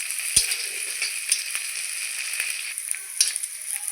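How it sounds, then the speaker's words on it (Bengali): Onion, garlic and green chili fry in a pan for a flat-bean mash, with a bright, crackling sizzle close up. Scattered sharp pops and stirring clicks sit over the steady hiss, and no one talks. "পেঁয়াজ আর রসুন লাল করে ভেজে নেব।"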